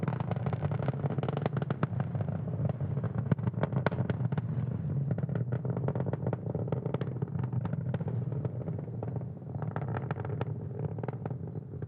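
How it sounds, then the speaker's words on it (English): A SpaceX Falcon 9 rocket's engines roar during ascent on the Türksat 6A launch, a continuous crackling, rumbling blast that holds steady for the whole stretch, heard from a distance with no voices over it. "we'll be throttling down the engines in preparation for max Q, or maximum aerodynamic pressure"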